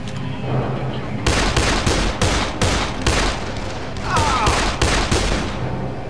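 Rapid gunfire in the zombie video game Dead Island, loud close bursts of automatic shots in several rapid volleys, with brief pauses between them.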